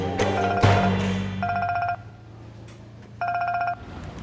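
A telephone rings in two bursts of repeated electronic trills separated by a pause, loud and close, over a low background hum.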